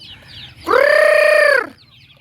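A rooster lets out one loud, close crow lasting about a second, with softer chicken clucking in the background before and after it.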